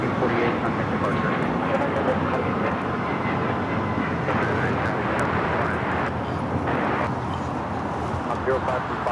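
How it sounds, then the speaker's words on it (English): An Alaska Airlines Boeing 737 rolling on runway 25 left at LAX, a steady broad roar of jet engines at constant loudness with a faint hum underneath, no break in the noise. "That's Alaska 737 wasting no time to get to Terminal 6."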